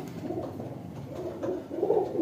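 High-flying pigeons in Okara coo softly, with several low, rounded calls rising and falling over about two seconds against quiet background, moderately faint and unaccompanied by talk.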